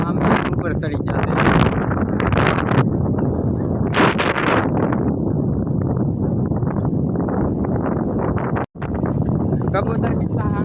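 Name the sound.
strong wind blowing at the seaside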